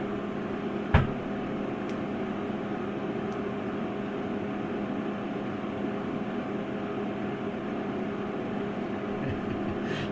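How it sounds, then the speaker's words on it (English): A condensation particle counter hums steadily throughout a mask fit test, a constant low mechanical drone with one faint click near the start and no talking. "what you're hearing is the CPC humming away"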